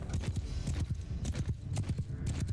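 Horse archers gallop across a Mount & Blade II: Bannerlord battlefield, a dense, steady drumming of many hooves rolling on continuously at a moderate distance.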